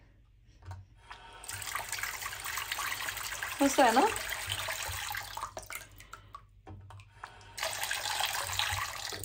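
A bathroom tap runs with a steady, broad rushing hiss of flowing water, fairly close and continuous for most of the stretch, briefly quieting before picking up again. A voice speaks over the water midway.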